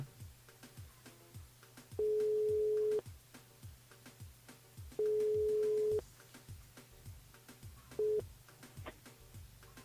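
Telephone line tone during a live radio call to a listener, three steady electronic beeps, the first two about a second long and a short third one, over a faint rhythmic background.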